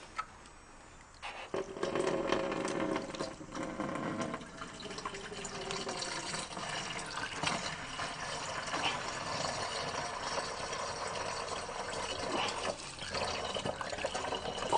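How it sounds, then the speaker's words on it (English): Water is poured through a makeshift funnel cut from a plastic bottle into the reservoir of a CO2 laser engraver's chiller, a steady rushing, trickling fill that starts after a brief quiet moment and runs continuously at close range. "Alright, let's pour the water in."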